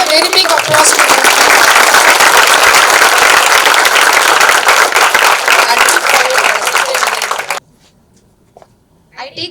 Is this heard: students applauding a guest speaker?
yes